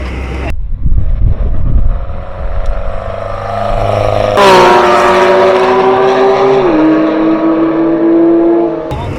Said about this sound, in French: Ça rentre au stand, elle freine.